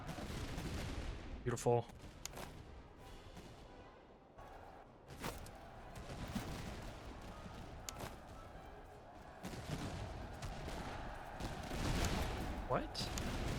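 Commonwealth army gunfire in the strategy game Master of Command: scattered volleys and sharp reports crack out near and far over a steady battle rumble, with a brief spoken word.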